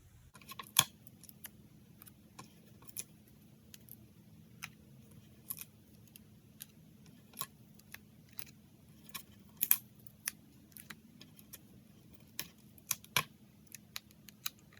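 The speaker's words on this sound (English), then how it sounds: "And peel off the backings." Backing papers peeled one by one off small adhesive foam dimensionals for a paper craft card, giving scattered soft ticks and sharp little snaps at irregular intervals in a quiet room, with no talking.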